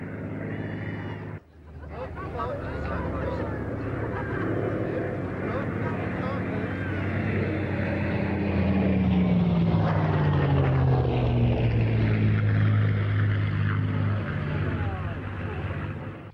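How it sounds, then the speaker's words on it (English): A WWII propeller fighter, a Spitfire or Hellcat, flies past at an air show, its engine a continuous loud drone that swells and shifts in pitch as it passes, with some crowd noise and commentary underneath. "The Spitfire in operations over the D-Day beaches, and the Hellcat in the hands of US Navy ace Alex Vrakul."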